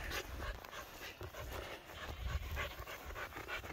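A sheepdog pants steadily and close up just after herding sheep, quick rhythmic breaths continuing throughout against a faint outdoor background.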